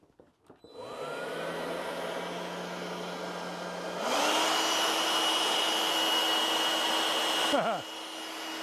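A cordless blower powered by a DeWalt-clone battery whirs steadily on its own, stepping up to a higher, louder pitch partway through, then briefly dipping before running on.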